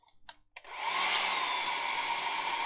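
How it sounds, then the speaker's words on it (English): A hair dryer blowing on freshly painted Warhammer miniatures switches on after a few soft knocks, then runs as a steady, loud whooshing roar. "I'm going to put the hair dry on."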